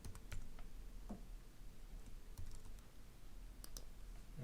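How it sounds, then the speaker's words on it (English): Keys on a computer keyboard are tapped while a password is typed, a sparse run of quiet separate clicks with pauses between them over faint room hiss. "let's type in the password that we want to add"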